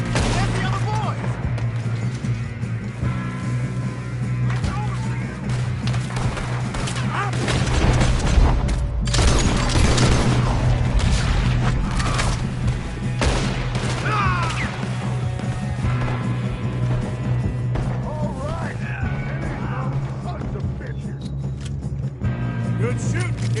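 Gunfire from a shootout in Red Dead Redemption 2 cracks and booms over a dense, loud mix of impacts and crashes. Voices talk partway through, and the noise swells near the middle.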